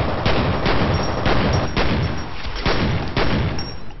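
Rapid gunfire from the first-person shooter video game F.E.A.R. comes as loud, dense bursts of shots, one after another with little pause.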